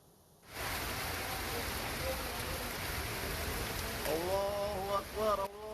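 Steady heavy rain with strong wind in Padalarang, Indonesia, roars as a dense wash of noise throughout, with a brief tonal whine rising near the end.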